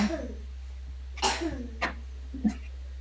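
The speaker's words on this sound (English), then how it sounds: "He's just coughing a little bit." A sick young boy coughs several times in short, separate bursts, near and fairly quiet, with a faint steady hum underneath.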